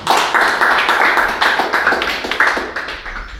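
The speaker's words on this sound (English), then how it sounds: "Let's have a round of applause for" Round of applause at a community meeting in Wentworth, close, loud clapping from a modest group with distinct irregular claps that slowly thin out.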